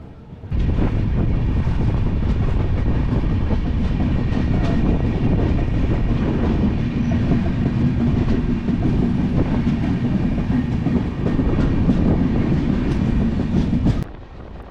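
A passenger train running at speed past Adoni railway station on the Secunderabad to Kadur route, heard from inside the coach as a loud, steady rumble and rail roar with wind noise, continuous for about thirteen seconds.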